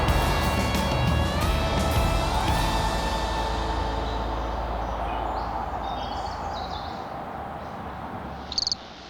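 Steady roar of traffic on nearby Interstate 90 along a northern Idaho bike trail between Kellogg and Mullan, a constant broad hum beneath loud chirping crickets, with a faint bird call near the end.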